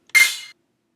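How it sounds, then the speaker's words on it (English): A single rim shot drum sample hits once, a bright, sharp crack with its lows and mids cut away, decaying quickly into silence. "The next one is just this rim shot right here"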